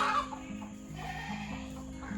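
Chickens cluck and run about in a home garden with lotus ponds. The short, throaty calls are close, over a steady low background hum.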